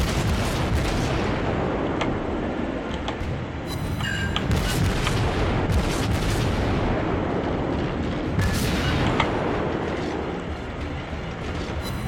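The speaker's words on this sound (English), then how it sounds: "let's launch torpedoes over there" Naval combat in World of Warships, with a torpedo launch and ship gunfire: a dense, loud, continuous roar broken by heavy booms and sharper blasts throughout.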